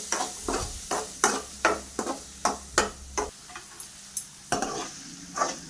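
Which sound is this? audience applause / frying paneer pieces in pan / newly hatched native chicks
frying paneer pieces in pan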